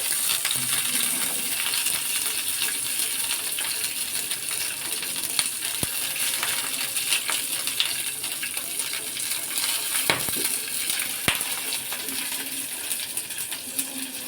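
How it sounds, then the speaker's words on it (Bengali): Chillies fry in oil in a pan for a spicy mashed fermented dried fish dish: a steady, close crackling sizzle with a few sharp clicks and pops scattered through it, and no talking. "মরিচগুলো তো আমার ভাজা মোটামুটি হয়ে আসছে"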